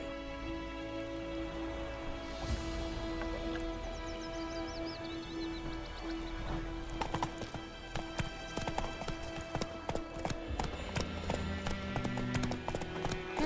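Steady clip-clop of horse hooves at a walking pace in the video game The Witcher 3, in White Orchard, growing louder and more distinct partway through, over a soft ambient backdrop.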